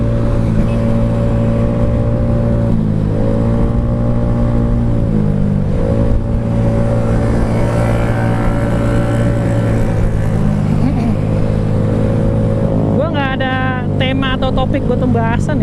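A Honda Vario scooter tuned for speed runs hard along a highway on a holiday homecoming ride, its engine holding a loud, steady drone with shifting pitch and constant wind rush, while people talk over it.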